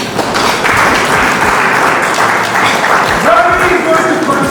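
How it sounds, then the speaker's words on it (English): Audience applause at an awards-industry event celebrating Afrobeat, a steady, dense wash of clapping that fills the whole stretch at an even level, with voices and faint music threaded beneath it. "Shall we applaud to that?"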